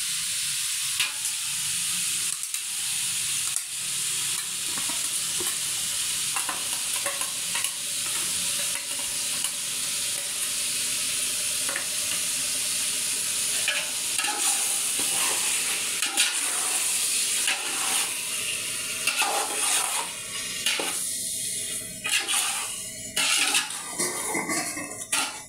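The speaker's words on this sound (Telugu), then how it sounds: "ఇప్పుడు అల్లం వెల్లుల్లి పేస్ట్ వేస్తున్నాను." Ginger, garlic and poppy seed paste sizzles in a hot pan while being stirred, a steady frying hiss with a spoon scraping and clinking against the metal, intermittent toward the end.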